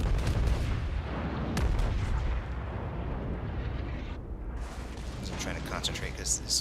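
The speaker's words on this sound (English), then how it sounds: "this guy in the New York is just thumping me right now" Heavy naval gunfire from a USS New York battleship in World of Warships lands on the player, a dense run of booming blasts and rumbling impacts filling the whole stretch, loud and close, with a voice talking over it.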